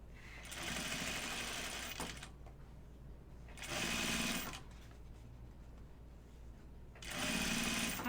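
A sewing machine stitches binding onto a zip pouch in three steady bursts of motor whir, each lasting a couple of seconds, with quiet pauses between as the machine is lifted to turn a curve.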